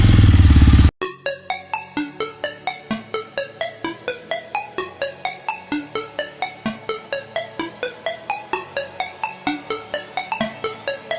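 Jawa Yezdi Roadster motorcycle engine cranking and catching, then settling into a steady, evenly thumping idle heard close and alone for about ten seconds.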